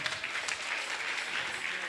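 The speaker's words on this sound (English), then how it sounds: "Please, a round of applause for Brother Michael." Audience applause at a youth day gathering, a steady wash of clapping at moderate distance, fairly quiet and continuous throughout.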